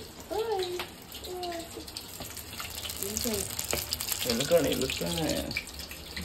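Mussel bonda coated in gram flour batter fries in hot oil with a soft, hissing sizzle and scattered bubbling pops, sitting low under someone speaking in Kannada throughout.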